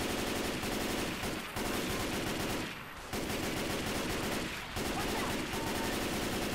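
Dense, continuous automatic gunfire from Left 4 Dead 2 gameplay with zombies all around, loud, rapid bursts with a couple of short dips between volleys.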